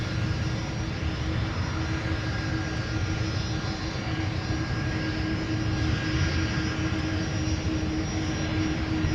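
An aircraft at Minneapolis St. Paul International Airport produces a steady, continuous engine roar with a faint whine over it, holding at an even moderate loudness throughout with no voices.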